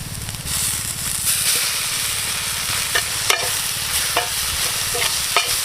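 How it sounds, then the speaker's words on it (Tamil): Sliced onions and green chilies fry in hot oil as ginger garlic paste goes in and gets stirred, a close, steady sizzle broken by several scraping strokes of a spoon against the pan. "இப்போ இஞ்சி பூண்டு பேஸ்ட்டை சேர்த்துக்குவோம்"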